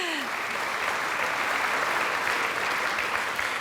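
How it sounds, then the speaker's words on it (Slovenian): At a Slovenian Chamber of Commerce business awards ceremony, a large audience gives sustained applause, a thick, even roar of many hands clapping that fills the hall for several seconds, with a brief trace of voice at the very start. "Seveda, aplavz."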